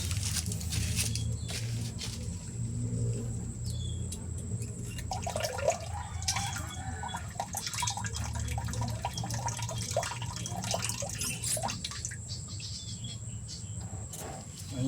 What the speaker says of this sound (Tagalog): Tumagas na yung tubig.